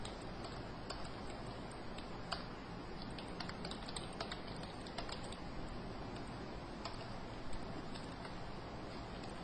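Computer keyboard typing while dummy names and numbers are entered into an Excel sheet, soft scattered key clicks under a steady background hiss, with no talking.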